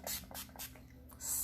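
Setting spray for normal to oily skin with a matte finish misted onto a face in a few short hissing bursts, close and fairly soft, with a brief pause before a final spray.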